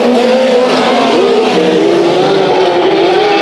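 Race cars at Bakersfield Speedway roar loud and close, engines droning steadily with shifting pitch as they race, a continuous heavy wall of motor noise.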